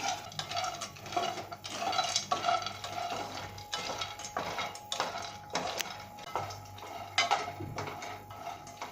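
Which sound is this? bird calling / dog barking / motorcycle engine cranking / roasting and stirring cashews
roasting and stirring cashews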